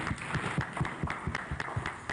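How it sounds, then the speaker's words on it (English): An audience gives a round of applause for a finalist at a campus table talk event, a dense mix of claps with some sharper nearby hits over a steady crowd patter. "Can we give a round of applause for our second finalist?"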